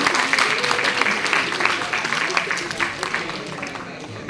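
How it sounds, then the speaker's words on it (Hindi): Schoolchildren clap at an awards ceremony at PM Shri Kendriya Vidyalaya, Jakhoo Hills, Shimla. The applause is sustained and dense and fades slightly toward the end, with an amplified voice speaking over it. "तालियां बजाते रहिए बच्चों।"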